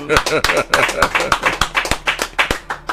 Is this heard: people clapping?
yes